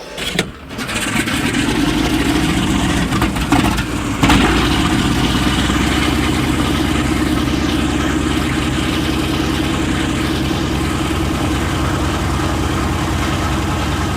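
A B-17 Flying Fortress radial engine coughs and catches, then settles into a loud, rough, continuous idle rumble heard from close by.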